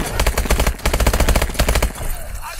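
Rapid automatic gunfire from the video game Advanced Warfare rattles out in dense, loud bursts for about two seconds, then cuts off into a quieter tail.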